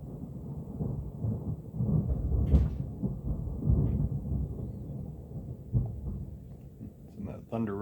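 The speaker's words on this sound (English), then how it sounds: "that thunder rumbling is shaking the walls a little bit in here" Low thunder rumbles through a storm in long, rolling swells that rise and fall, heard from indoors with muffled thumps and faint household noises layered over the deep rumble.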